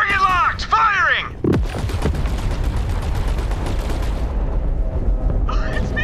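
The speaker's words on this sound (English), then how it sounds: "Target locked! Firing!" Gunfire from a weapon in the video game Borderlands 3, a sharp loud blast followed by a dense run of rapid shots lasting several seconds, with chirpy sci-fi warbling sounds before and after.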